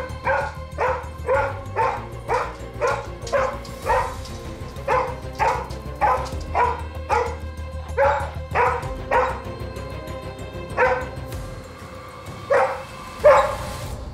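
A dog barks over and over in a steady run of sharp, loud, close barks, with a few brief yips and whimpers and short pauses near the end; no one speaks.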